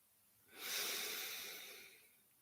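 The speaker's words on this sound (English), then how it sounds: "Inhale here." One slow, deep inhale during a guided morning breathing exercise, an airy breath that swells and then gently fades, close and quiet.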